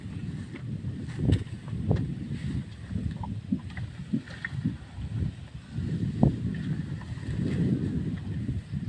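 Morning wind blows outdoors, a steady low rumble that buffets the microphone in gusts, with faint knocks and rustles underneath.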